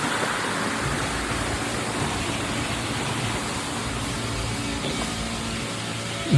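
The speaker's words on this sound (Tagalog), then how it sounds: "May mini falls eh." A small waterfall on a farm rushes steadily, a continuous broadband splashing roar heard close with no talk.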